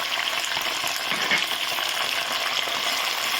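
Cumin seeds and mint-tomato chutney ingredients frying together in hot oil, a dense, continuous close sizzle and crackle with occasional spatter, heard alone with no talk.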